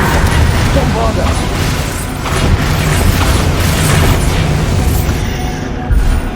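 Bombarda and Confringo spell blasts in the video game Hogwarts Legacy, a dense barrage of loud booming explosions overlapping continuously with shouted spell incantations on top.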